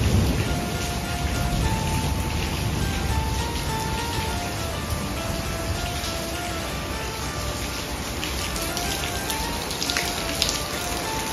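Steady heavy rain pours throughout a hailstorm in Tinsukia, Assam, a dense continuous hiss with faint rattling patter, loud and enveloping with no talking.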